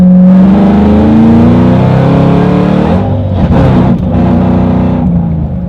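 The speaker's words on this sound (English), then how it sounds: "we are going to do a pull in third gear at 50 miles an hour" A 2010 Shelby GT500 Mustang pulls hard in third gear from about 50 mph, its engine roaring loud and close with rising revs, then the note shifts and eases before building again.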